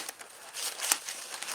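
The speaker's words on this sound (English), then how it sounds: "I'll kind of move the paper stuff off." Paper items from a Boy Scout collection being handled and shifted aside, soft crinkling and rustling with a few sharper crunches, close and fairly quiet.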